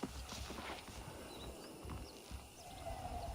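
Saddled horses in the video game Red Dead Redemption clip-clop at a walking pace, soft repeated hoof beats near a western town, faint under quiet game ambience.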